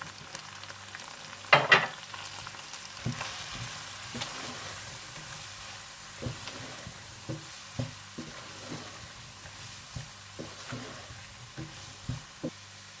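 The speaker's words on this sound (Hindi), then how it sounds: "जब चिकन अच्छा सा भुन जाए तो आप इसमें मैदा डालकर 1 से 2 मिनट के लिए भून लें।" Chicken and flour (maida) fry in a pan, giving a steady low sizzle broken by repeated scraping and stirring knocks at close range, with no talking.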